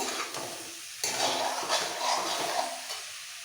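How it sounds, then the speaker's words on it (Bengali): Fried soybeans are stirred in a pan with a spiced potato mixture, soft sizzling under a spoon that scrapes and knocks in short bursts, the hiss jumping louder after a first push, with no speech. "এবারে ভেজে রাখা সোয়াবিনগুলো সব দিয়ে দিচ্ছি এবার একসাথে কষাবো"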